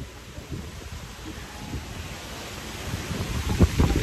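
Strong wind buffeting the microphone in a steady roar with heavier rumbling gusts toward the end.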